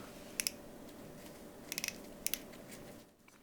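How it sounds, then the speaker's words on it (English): Crisp little clicks from a turning POC bike helmet fit dial in short bursts, two, then four, then two, sharp and close over a quiet background hiss. "Let's see if the dial makes that satisfying clicking noise."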